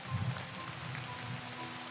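Steady rain falls, a soft, even hiss of drops on a surface filling the whole short stretch with no talk.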